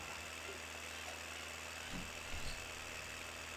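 A tractor engine labouring uphill in Farming Simulator, a steady low droning hum with faint vibration, even and unbroken throughout, with a couple of small bumps near the middle.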